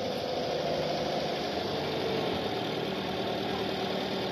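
A car engine idles after its water pump has been replaced, holding a smooth, even hum close by with no noticeable knocking and no one speaking over it.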